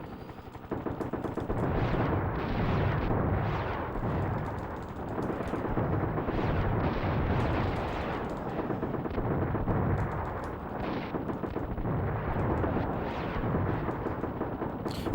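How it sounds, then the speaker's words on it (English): Hellfire missiles and gunfire from the Desert Strike: Return to the Gulf helicopter game produce a dense, continuous barrage of rumbling explosions and rapid blasts, loud and steady with rolling bursts throughout. "Oh, that's a Hellfire missile."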